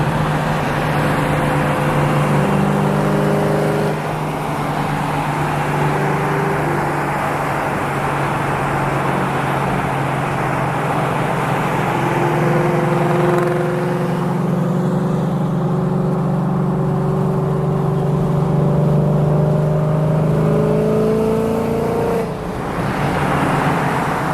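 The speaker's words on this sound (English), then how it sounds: "She's already ripping out the car" A 2024 Ford Mustang GT driving on the road, its engine a steady, loud drone with shifting tonal bands as it revs and pulls through gears, heard continuously from inside or near the car with no talking.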